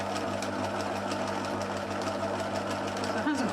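A sewing machine stitches fabric for a faux candle cover with a short stitch length, humming steadily and close by throughout, with a brief squeak of fabric or thread near the end.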